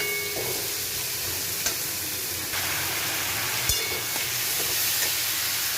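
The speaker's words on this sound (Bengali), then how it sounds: "দিয়ে একটু নেড়ে বাকি সবজিগুলো দিয়ে দেবো।" Mixed vegetables fry in oil with ground cumin in a pan for vegetable, moong dal and dalia khichuri. A continuous close sizzle runs throughout, broken by a few sharp scrapes and knocks of stirring.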